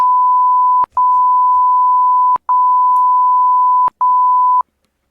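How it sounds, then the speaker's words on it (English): A loud, steady censor beep of one pure tone covers voice chat in several long stretches, each a second or more, cut by brief sharp gaps before going silent. "It's just gonna be a 10-second just censor noise"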